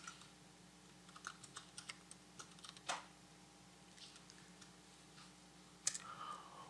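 Keyboard keystrokes tapping out a shortcut in the IBM Rational DOORS software, a few scattered clicks at moderate distance with a sharper key press near the end, over a quiet room hum.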